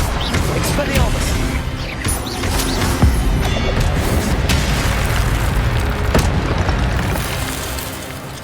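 Spellcasting combat in the game Hogwarts Legacy: dense magical blasts, booms and crashing impacts with sharp bursts throughout, loud and continuous, with voices speaking over the action.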